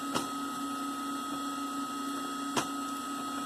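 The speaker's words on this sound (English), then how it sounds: "watching our Jellybox print" A Jellybox 3D printer runs with a steady tonal whine and hum, close and constant, broken by two brief clicks of the moving print head.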